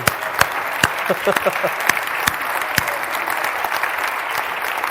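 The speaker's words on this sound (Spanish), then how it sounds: "Y si le van a aplaudir al Señor, apláudanle bien" A church congregation applauds during a sermon on Esther 8, a steady wash of many hands clapping with sharp individual claps standing out, moderately distant in a large room.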